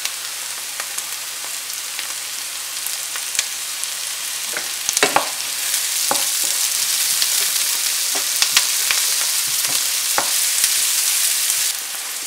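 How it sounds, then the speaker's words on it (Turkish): Peppers and onions sautéing in a pan for a Turkish gözleme filling with aubergine, giving a steady, close sizzle throughout with occasional scraping stir sounds and light clicks, no talking. "Biberlerle soğanları kavurduk biraz."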